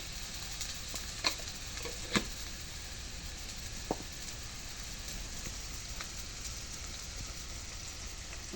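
Chili powder hits hot oil in a home kitchen pan, giving a steady, close hiss of frying with a few sharp crackles and pops scattered through it.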